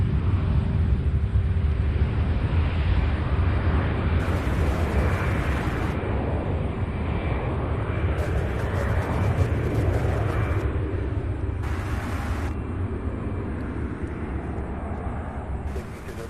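A Mesa Airlines airplane at Louisville airport sends a heavy, sustained jet rumble that stays loud throughout and eases off slightly toward the end, deep and continuous, with some faint background noise and no clear speech.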